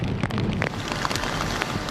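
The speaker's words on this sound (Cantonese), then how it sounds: "湧浪拍岸" Waves crash against the shore at Heng Fa Chuen during Typhoon Koinu in Hong Kong, a dense, continuous roar of surf and spray mixed with wind, steady and broad with no voices.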